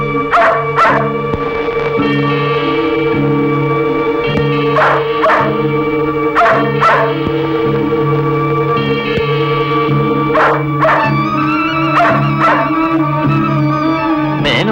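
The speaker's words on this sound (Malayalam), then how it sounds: "ഇത് മാലുവിന്റെ നായല്ലേ?" A dog barks in short repeated bursts, loud and close, with whimpering yips between them. Steady musical tones run underneath the barking throughout, and no one speaks.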